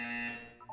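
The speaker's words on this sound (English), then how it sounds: "When you hear the buzzer, look down at the floor." A buzzer in the video game Portal 2, a loud steady electronic tone with bright harmonics that holds for most of the moment, then fades, followed by a couple of short higher blips.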